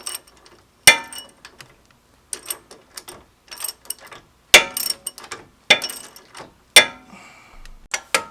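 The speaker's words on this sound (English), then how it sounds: "18mm wrench will get the bottom tightened as well" An 18mm wrench ratchets while tightening a bolt on a Metalcloak 3.5-inch lift on a Jeep JL, loud metallic clicking in short bursts with sharp clanks between pauses, close and without speech.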